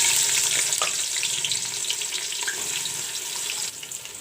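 Onions frying in refined oil in a pan, a continuous bright sizzle that stays close and moderately loud throughout and eases off slightly near the end, with no voices.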